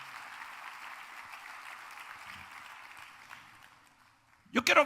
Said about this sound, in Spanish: Dale un aplauso al Señor antes de sentarte.